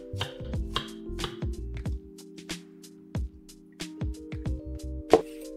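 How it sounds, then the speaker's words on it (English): A knife cuts burdock root into thin strips on a cutting board, sharp irregular knocks in quick bursts with brief pauses, close and clear. "Cut the gobo into thin strips and soak in water."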